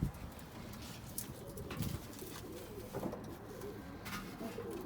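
Pigeons cooing inside a loft, soft throaty coos repeating at a moderate distance over a steady low background, with no talking.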